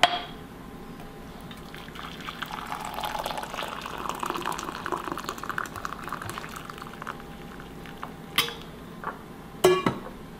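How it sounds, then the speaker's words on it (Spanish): Two cups of hot water pour over gelatin for a raspberry icebox cake, a steady splashing stream for several seconds, then a few clinks of utensils near the end. "Simplemente le voy a agregar 2 tazas de agua caliente."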